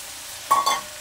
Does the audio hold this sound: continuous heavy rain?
no